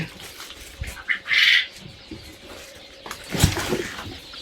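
Quail chicks call in a small enclosure: faint, scattered high chirps and a brief squawk-like burst. Soft handling and knocking noises come and go over a quiet background.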